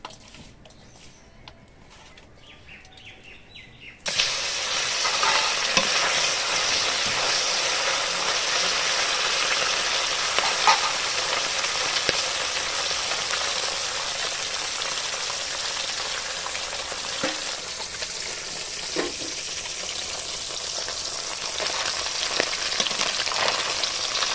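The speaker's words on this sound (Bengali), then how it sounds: "তা চলো মাছ ভাজাটা বসিয়ে দেই।" Bele fish frying in a pan, a steady dense sizzle that starts abruptly after a few quiet seconds and continues loud and close, with occasional crackles and pops.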